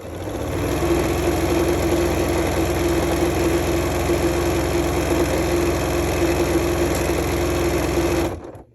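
A sewing machine stitches fabric in a steady, loud, continuous mechanical whir with a fast needle rhythm, running for about eight seconds before stopping abruptly, with no talking.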